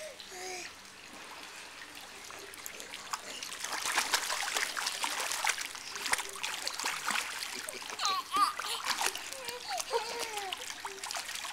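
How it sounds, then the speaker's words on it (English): A small child splashes water in a swimming pool in Phuket, with irregular close splashes and trickles while an adult talks and the child vocalizes throughout. "Splashing the camera."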